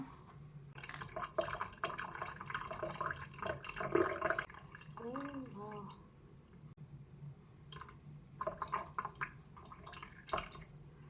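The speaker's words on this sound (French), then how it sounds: "On va aller verser ça gentiment dans l'évier" A crystal-growing solution is poured gently into a sink, giving soft splashing and trickling water with faint drips, moderately close and quiet, mixed with some indistinct background voices.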